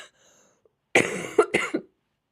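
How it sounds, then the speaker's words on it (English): A person coughs at home during a live online chat: a close, sharp burst of two or three harsh coughs after a near-silent pause, followed by a brief throat-clearing rasp. "I really should mute myself when I'm coughing."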